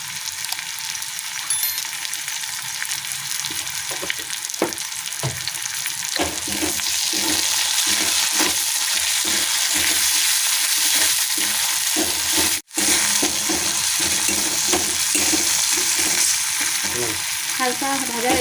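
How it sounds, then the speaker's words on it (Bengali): Sliced onions fry with black cumin and a pinch of salt in hot oil in a pan, a loud continuous sizzle with a run of stirring scrapes and a sharp knock partway through. "হালকা ভাজা হয়ে গেছে পেঁয়াজগুলো"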